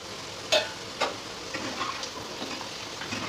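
Potatoes frying in a covered pan for a Bengali chicken dish, a faint continuous sizzle with a couple of sharp clicks near the start.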